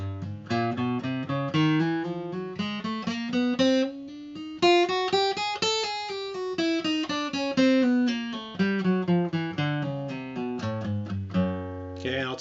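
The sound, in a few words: warm-up exercise, slurring one string, picking the next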